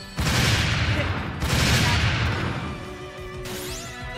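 Video game gunfire from Dark Rose Valkyrie sounds as dense, loud bursts of rapid shots, three heavy volleys one after another with short gaps and crackling debris between them.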